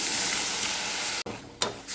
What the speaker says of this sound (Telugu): మీద కడాయి పెట్టుకొని ముందుగా దంచి పెట్టుకుని బెల్లం కూడా వేసుకోవాలి అందులో కొద్దిగా వాటర్ పోసుకోవాలి